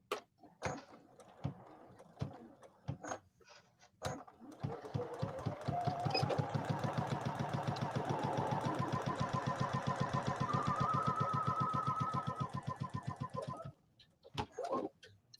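A sewing machine stitches a Christmas table runner, running in a long steady rhythmic whir for several seconds with a few short starts and stops before and after, close and clear with no talk.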